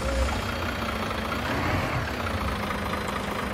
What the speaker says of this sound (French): les sons moteurs à l'extérieur, ils sont vraiment bien faits